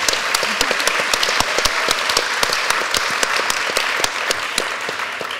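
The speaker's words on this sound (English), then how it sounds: "I think I wanted to ask you all for a very big applause for Julia, because it's an amazing invention" A crowd applauds steadily, dense clapping from many hands that holds at an even level throughout, no voices on top.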